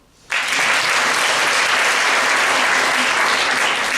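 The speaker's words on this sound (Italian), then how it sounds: "Applauso." Sudden burst of audience applause at an award ceremony, starting sharply after a brief quiet moment and continuing as steady, dense clapping from a large crowd for several seconds.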